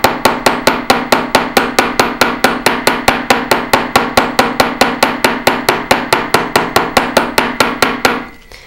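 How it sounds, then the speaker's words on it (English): A small peening hammer repeatedly striking a metal bracelet disc to texture it: about thirty loud, sharp, evenly spaced metallic taps in a steady rhythm, close and alone, ending with a short ringing decay. "Now I'm going to show you how to do just some small peening action using this is just a smaller version of a peening hammer"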